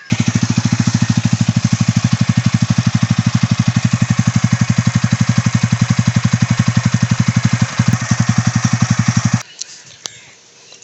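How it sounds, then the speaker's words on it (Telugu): A TVS Ronin 225 motorcycle idles with a loud, rhythmic thumping exhaust beat from its silencer, running steady and close for about nine seconds before cutting off abruptly. "సో విన్నారు కదా, సైలెన్సర్ కూడా ఇందులో చాలా లౌడ్ ఉంటుంది"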